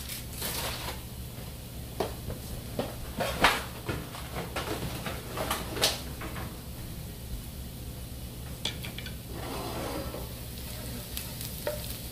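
Pasta shells being stirred in a pot for a turkey stuffed shells dish, a continuous sizzling bed under repeated scraping and clattering strokes of a spoon, close and steady, no talking.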